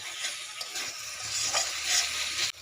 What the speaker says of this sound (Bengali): এবারে দিয়ে দিব মটরশুঁটিগুলো দিয়ে একটু নেড়ে চেড়ে